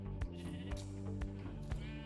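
Repeated sheep bleats from Minecraft VR, several short calls at a steady pace over low background game sounds and music, fairly close.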